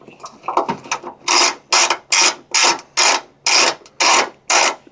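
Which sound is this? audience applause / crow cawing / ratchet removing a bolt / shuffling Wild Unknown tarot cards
ratchet removing a bolt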